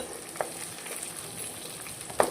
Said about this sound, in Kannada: ಅದಕ್ಕೆ ಈಗ ನಾವು ತೆಂಗಿನ ತುರಿನ ಹಾಕ್ಕೊಳ್ತಾ ಇದ್ದೀವಿ.